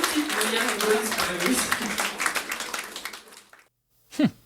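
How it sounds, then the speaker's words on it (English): Small live audience clapping in a room after a performance, a thin dense patter of hands that tapers off and fades out, with a voice sounding briefly near the end. "you can hear how small the audience is, can't you, from the room clapping"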